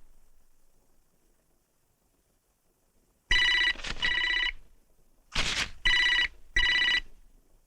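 A telephone rings in short repeated bursts, two rings, a pause, then a few more, loud and close, with no talk over it.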